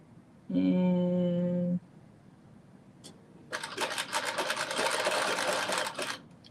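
A domestic sewing machine zigzag-stitches a maxi dress in a dense rapid burst lasting a few seconds, after an earlier steady tonal hum and a single click, close and fairly loud.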